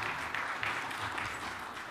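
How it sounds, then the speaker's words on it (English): Steady audience applause at a university vice-chancellor installation ceremony, a dense wash of clapping continuing throughout, moderately distant. "A round of applause, ladies and gentlemen."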